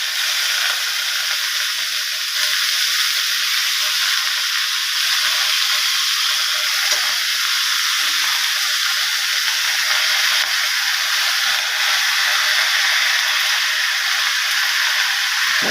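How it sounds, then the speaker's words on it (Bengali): Bethua saag greens hitting hot oil in a pan give a steady, bright sizzle and hiss that holds at an even level throughout, close and unbroken, with no talk over it. "এবার শাকগুলো দিয়ে দিচ্ছি"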